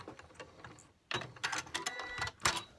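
A sewing machine fitted with a walking foot stitches a quilting line, giving a rapid mechanical whirring in short bursts after a quiet start, close and fairly loud, with no talk.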